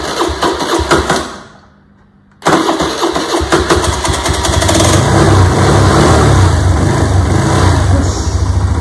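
A motorcycle starter cranks and catches, then the engine fires up and settles into a loud, steady idle after a brief silent pause near the start.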